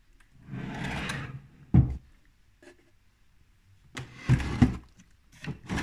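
A drawer of medical supplies, holding needles, slides open and shut with wooden rubbing scrapes and a sharp knock, a burst of sliding, a pause, then more sliding and thumps nearby.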